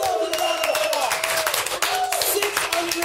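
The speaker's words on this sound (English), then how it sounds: "Give yourselves another applause." A podcast's live audience of about six hundred people claps loudly and continuously in a brief burst of applause, with a voice briefly heard over it.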